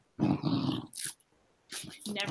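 Dogs in a busy house growl and give short barks in brief, close bursts amid pauses, mixed with a person talking.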